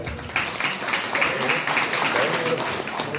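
Audience applause at a Kannada religious discourse, a steady wash of many hands clapping across the whole moment, fairly loud and continuous with no words spoken over it.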